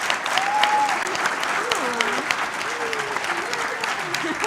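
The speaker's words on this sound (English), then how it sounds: "everybody a round of applause." Audience applause at a TwitchCon panel on mental health in streaming, steady dense clapping throughout at moderate level, with a few voices heard faintly over it.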